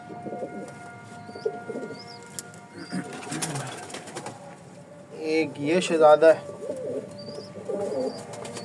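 Pigeons coo intermittently near and far, with soft repeated calls and a few chirps while someone talks over them and handling noises come and go.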